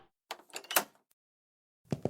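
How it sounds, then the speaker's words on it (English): A door is pushed shut and a bolt slid across with a few close, sharp wooden and metal clunks, then a short pause before two more quick latch knocks, with no voices. "The door is shut and bolted immediately."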